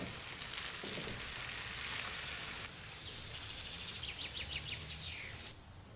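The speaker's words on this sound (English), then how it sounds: "Let's add the sliced onion to the pan and gently mix everything together." Sliced onion sizzles in a pan with chicken thighs, a steady, hissing crackle that holds evenly throughout, close and fairly soft, with a few brighter chirping pops near the end.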